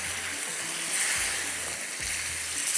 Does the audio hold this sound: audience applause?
no